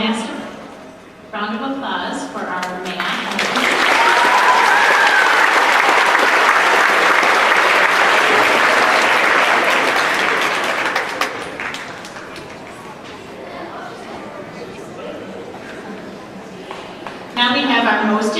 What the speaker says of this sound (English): And one last round of applause for our math.